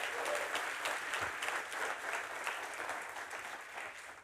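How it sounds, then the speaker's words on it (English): An audience applauds ten startups at a large event, dense steady clapping that holds for several seconds at moderate distance, with no talk over it. "Let's give them a big round of applause."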